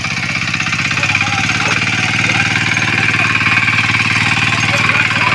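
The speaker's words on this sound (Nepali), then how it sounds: "आमाले चाहिँ नि मजाले ट्र्याक्टरले जोत्नु भएको छ" A tractor engine ploughing a flooded rice field during the monsoon planting season, chugging steadily and loud up close, with an even droning rhythm throughout.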